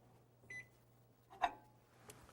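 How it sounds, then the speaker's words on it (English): A microwave oven heats margarine. Its faint steady hum runs throughout, with short beeps and clicks at a few points. "you can microwave for just about 10 or 15 seconds"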